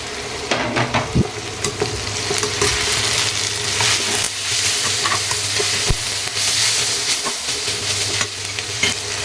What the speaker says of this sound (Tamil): குடமிளகா சேர்த்தாச்சு. கோஸும் வந்து சேர்த்துடலாம்.